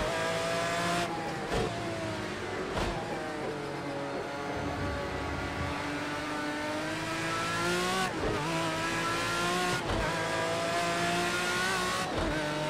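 Race car engine in a racing video game, running steadily through a lap with rising and falling revs and sharp shift dips, close and loud throughout with no talk.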